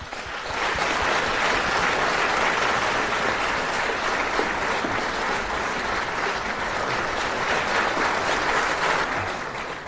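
A large audience applauds to welcome violinist Xue Wei to a public violin class, a dense, steady wash of clapping that holds loud and even for about ten seconds with no talk over it.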